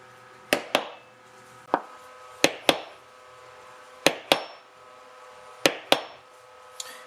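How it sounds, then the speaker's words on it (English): A hammer strikes a texturing tool into a leather knife sheath, producing sharp ringing metallic taps, often in quick pairs, spaced irregularly with short pauses between them, close and clear with no talking. "I'm just turning this tool as I hammer to break up that pattern"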